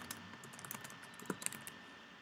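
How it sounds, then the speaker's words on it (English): Typing a book title on a computer keyboard, a quick, uneven patter of soft key clicks, quiet and close, with no voices. "Type in your title."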